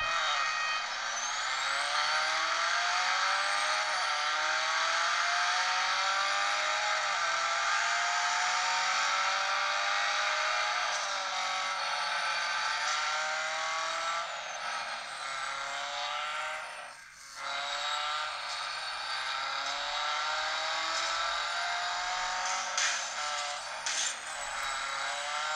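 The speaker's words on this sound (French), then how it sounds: "On va se taper un petit jeu. Allez, un petit tour à Melbourne, en condition de course." Racing cars in a mobile racing game on a Melbourne circuit under race conditions, a continuous whining engine drone with rising and falling pitch sweeps as gears change, played steadily through a phone speaker.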